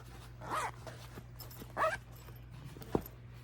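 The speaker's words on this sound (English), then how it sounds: "And a nice tab, so you can hold your zipper when you closing it." A zipper on a 100% cotton crochet bag with an inner zipper pocket and pull tab is run closed in two short quiet zips, followed by a sharp little click, with no talking.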